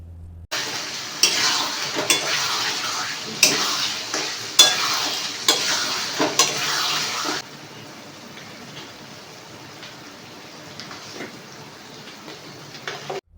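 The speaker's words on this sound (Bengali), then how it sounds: "দিয়ে ভালো করে পকোড়ার সাথে যে সসটা ওটা ভালো করে মিশিয়ে নিতে হবে।" Fried chicken pakoras stirred into chili sauce in a pan, loud rhythmic scraping strokes over sizzling for several seconds, then the stirring stops and a faint hiss remains with a few light clicks.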